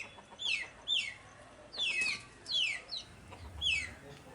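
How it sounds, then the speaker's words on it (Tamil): Two hens fighting cluck and squawk in sharp, repeated bursts, several agitated calls in quick succession against a faint background rustle. "இங்கே பாருங்கள், ரெண்டு கோழி வந்து சண்டை பிடிச்சிட்ருக்கு."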